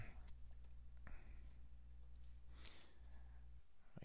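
Typing on a computer keyboard during a Cisco Nexus plugin demo for OpenStack Grizzly, with a few faint, scattered key clicks over a steady low hum.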